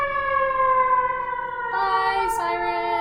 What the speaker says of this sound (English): Siren, gonna be loud for a second.